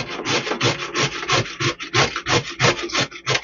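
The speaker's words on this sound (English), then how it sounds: "here I have carrots that I'm just going to shred" Carrots being shredded on a hand grater for a carrot bundt cake, a steady run of close rhythmic rasping strokes, loud and clear with no talking.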